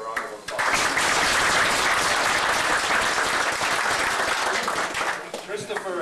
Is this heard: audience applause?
yes